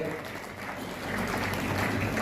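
Audience applause for a bank's leadership team at a silver jubilee ceremony, a steady wash of many hands clapping that swells slightly in the second half, with some voices mixed in.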